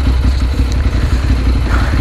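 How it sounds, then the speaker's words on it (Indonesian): A Ducati Monster 795 motorcycle engine on a test ride rumbles steadily up close, a dense low throb that stays level and loud throughout, with no voices. "kali ini kita lagi test ride Ducati Monster 795"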